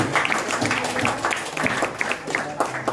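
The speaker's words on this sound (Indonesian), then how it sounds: "Iya, tepuk tangan buat temennya." Students in a classroom applaud a classmate with a brief, steady patter of hand claps that sounds fairly close, filling the room for a few seconds with light chatter underneath.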